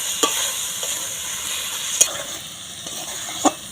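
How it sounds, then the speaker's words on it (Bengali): Boiled pond mussels and fried potato pieces sizzle in a spice masala, a steady frying hiss broken by three distinct scraping stirs of a spatula against the pan; no speech. "আগে থেকে যে ঝিনুকগুলো সেদ্ধ করে রেখেছিলেন সেগুলো মশলা ভেজে রাখা আলুর টুকরোগুলো দিয়ে দিলেন দিয়ে খুব ভালো করে কষে নেব"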